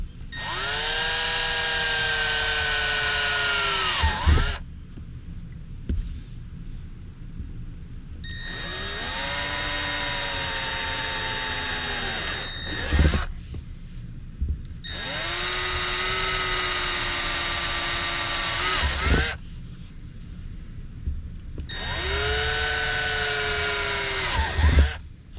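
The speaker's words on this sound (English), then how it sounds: "Pretty simple to drill into there." A power drill whines in four long bursts with short pauses between, drilling into a Ford F-150 truck cab, its pitch dipping under load then rising again, close and loud.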